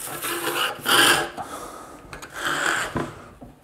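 Screwdriver scraping dust out of a stove door seal channel, several rough close rasping strokes in uneven bursts.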